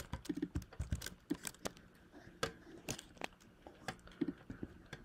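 Typing on a computer keyboard, close and quiet: irregular bursts of crisp key clicks with small pauses between groups of keystrokes, alone without talk.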